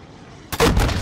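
A single loud rocket launcher shot in Call of Duty: Modern Warfare II, a sudden booming blast that cuts in after a half second of quiet and rumbles on to the end.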